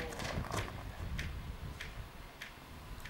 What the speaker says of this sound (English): I ask the horse to back up and come forward in order to establish a cue for these movements.